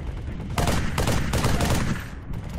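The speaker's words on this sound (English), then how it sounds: "Nice shooting!" Bursts of rapid automatic gunfire from a Halo 3 ODST firefight, a dense, loud volley running steadily for about two seconds before tailing off.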